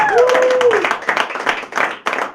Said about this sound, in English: Give us a big round of applause for Moving and Hustle, baby.